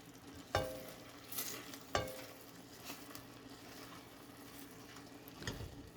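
Quiet stirring of Trader Joe's cacio e pepe gnocchi in a pan, a soft frying sizzle underneath with a couple of sharp utensil knocks against the pan and scraping movements.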